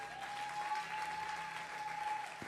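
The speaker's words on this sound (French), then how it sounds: "Est-ce qu'on peut acclamer pour Elevation Choir?" A church audience applauds for the Elevation Choir, a dense, steady clapping that runs the whole moment at moderate volume, with a faint sustained tone behind it.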